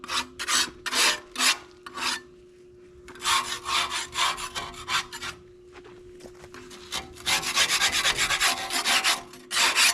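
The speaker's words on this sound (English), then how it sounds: "Okay, we pretty much got the silicone from around the perimeter here. What we need to do now, scrape this" Old silicone is scraped off an outdoor wood boiler with repeated harsh rasping strokes, first in short rhythmic bursts with pauses, then in a faster, continuous run close by, with no talking.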